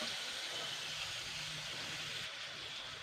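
Chopped onions, green chilies and potatoes frying in fish oil give off a steady, even sizzling hiss that continues without a break, close and moderately quiet.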